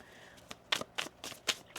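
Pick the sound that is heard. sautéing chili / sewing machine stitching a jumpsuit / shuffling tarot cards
shuffling tarot cards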